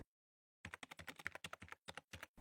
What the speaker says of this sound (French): un silence qui laisse entendre les claquements de clavier